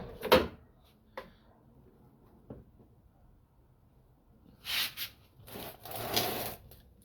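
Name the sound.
repaired door being opened and closed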